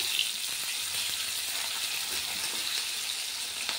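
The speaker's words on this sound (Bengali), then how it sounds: "এখানে মাছ ভাজা চলছে" Fish frying in oil gives a steady, even sizzle with a bright hiss, moderately quiet and unbroken throughout, with no voices.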